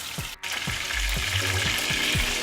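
Fish fries in a pan, a loud, close sizzle with steady crackling hiss, broken by a brief dropout and several low thumps as the pieces shift.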